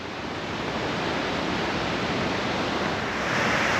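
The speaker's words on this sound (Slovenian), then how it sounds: "kako veličasten je ta spodnji Martuljški slap" The lower Martuljek waterfall in the Julian Alps roars as a loud, steady broadband rush of falling water, close and continuous, with no voices.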